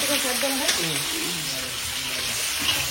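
Dried red chillies and cumin seeds crackle and sizzle in hot oil in a pan, a steady close frying hiss with a faint voice underneath.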